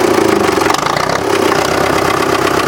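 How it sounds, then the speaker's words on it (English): A 1965 International TD6 diesel dozer engine runs steadily with the throttle raised, giving a loud, continuous rumbling drone with a rapid, even knock throughout, close by and with no talk over it. "I'm going to kick this up and throw the throttle up, the diesel throttle"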